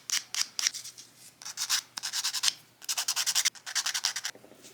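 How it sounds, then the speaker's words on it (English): A file roughs up the surface of a gel nail extension in a series of short, rhythmic scraping strokes, close and fairly soft, with brief pauses between sets. "So now I'm just gonna like rough up the extension before I do the builder"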